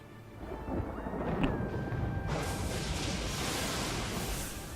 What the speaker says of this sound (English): Listen for when you hear the lightning in the back go off.